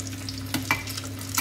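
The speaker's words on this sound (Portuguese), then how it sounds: "vamos colocar os nossos bolinhos para fritar" Codfish fritters frying in a small pan of hot oil give off a steady, soft sizzle with a few brief clinks and bubbling bursts, heard close up with no talking.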